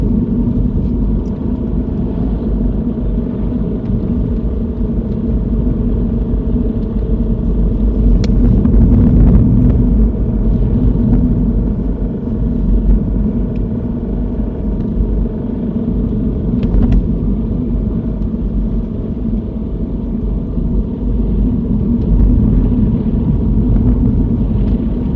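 A car engine pulls steadily up a road in second gear at around 30 mph, a continuous low droning rumble from inside the cabin with slight swells in loudness.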